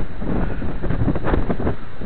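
A strong wind gust during a windstorm roars steadily and loudly into the microphone, buffeting it for a couple of seconds with no one speaking.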